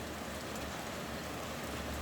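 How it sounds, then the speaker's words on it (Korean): Steady rain falling outdoors at a Korean apartment area, a soft, even hiss of drops with no breaks, moderately distant and quiet, alone without any voices. "비가 오고 있네요."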